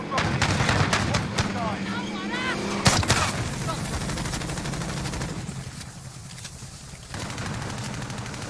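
Gunfire from the video game Call of Duty Warzone: dense bursts of shots and booms crowd the first few seconds, with one sharp loud report near the three-second mark, then a busier, rumbling game soundscape continues.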